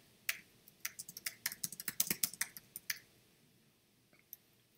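Quick bursts of keystrokes on a computer keyboard while text is entered into a text box, a close, dry clatter of about a dozen taps over three seconds, then quiet with one last stray click.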